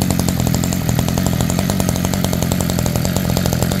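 A Makita grass trimmer engine runs steadily after starting, a loud, close, buzzing two-stroke drone with no breaks and no talk over it.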